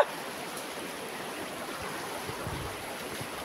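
A river in Nepal splits into two channels and flows on both sides, giving a faint, steady rushing wash of moving water with no voices.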